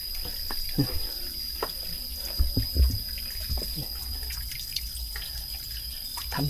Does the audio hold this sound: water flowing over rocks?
yes